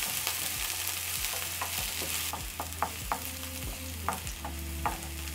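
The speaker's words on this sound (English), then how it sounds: "And we'll saute for about 1 minute, and I've added green onions" Onions and green onions sautéing in oil for a noodle and vegetable dish, a continuous close sizzle with a steady rhythm of spatula scrapes and taps against the pan, no talking.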